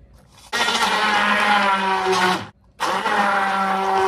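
An electric grinder grinding cooked beans, a loud steady motor whine for about two seconds, a brief stop, then the motor running again, with no talking.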